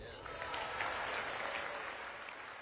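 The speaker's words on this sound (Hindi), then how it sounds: "विदेश मंत्री ने खड़े होकर ताली नहीं बजाई, जबकि दूसरी बातों पर जयशंकर ने ताली बजाई।" Audience applause during a Trump speech, a steady dense wash of clapping from a large crowd, continuous and fairly even throughout.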